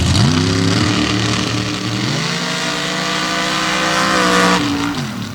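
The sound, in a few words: outlaw pro stock drag cars with nitrous launching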